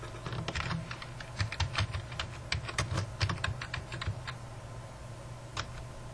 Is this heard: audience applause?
no